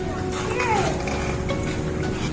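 A Magic Hose garden hose nozzle spraying water on its shower setting, a steady hissing rush of fine spray, close and continuous, with a person talking over it.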